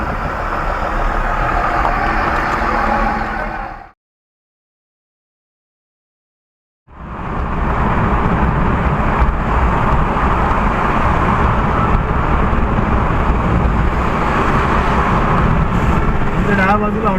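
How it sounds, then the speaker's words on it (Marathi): Vehicles idle and creep along a jammed highway at Mangaon on the way to Konkan, a low steady rumble of engines and road noise close by with a few seconds of silence partway through and someone talking over it. "पूर्ण ट्रॅफिक लागलं."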